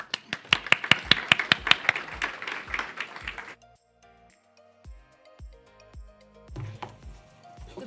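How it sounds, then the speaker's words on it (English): Audience at a fragrance industry summit keynote applauding, a burst of quick, close, crisp claps for about three and a half seconds, then a quiet room with a few scattered single claps and taps trailing off. "Please, a big round of applause for Kelly Lay"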